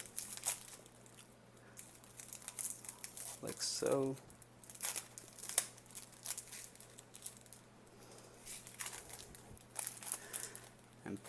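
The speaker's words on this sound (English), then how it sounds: "We can just simply unwrap that" Cellophane wrap being peeled and crinkled off a boxed keyboard, a series of soft crackling rustles and tearing bursts, close and fairly quiet, with someone talking between them.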